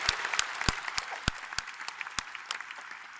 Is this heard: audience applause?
yes